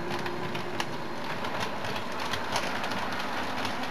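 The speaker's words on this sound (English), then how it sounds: "the train will pull away by itself." Steady rumbling rattle of a model train pulling away along track, with light clicking, continuous and fairly loud throughout.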